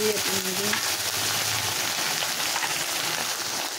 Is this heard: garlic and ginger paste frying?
yes